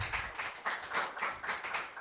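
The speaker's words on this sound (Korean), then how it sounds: "박수 좀 줄까요?" A small youth-worship congregation in a church claps for two students, a brief light round of quick, uneven hand claps heard fairly close.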